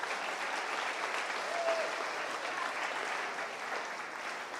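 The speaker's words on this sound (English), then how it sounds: "Go ahead and give everybody out here a round of applause." A crowd applauds the 4-H showmanship contestants at the Allen County Showman of Showmen event, a steady wash of clapping held at an even level throughout.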